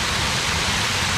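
A waterfall along a hike by Elkmont's rural village roars continuously, a dense, loud rush of falling water heard close up with no voices over it.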